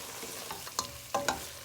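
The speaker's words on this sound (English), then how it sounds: "So we're gonna go in with the garlic and the broad thyme and give it a mix." Garlic and thyme fry in a pot for a farm chicken stew while a utensil stirs them: soft sizzling with a few short scraping strokes.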